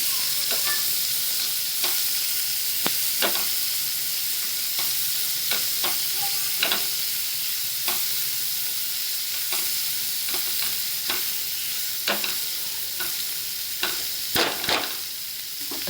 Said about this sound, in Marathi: हा पण कांदा ना थोडा नरम होईपर्यंत चांगलं भाजून घ्यायचा